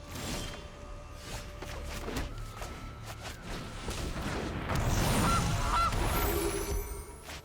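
A goose honks in the digital card game Magic: The Gathering Arena. The honk plays over game sound effects, with thumps and a whoosh, and it grows louder toward the end.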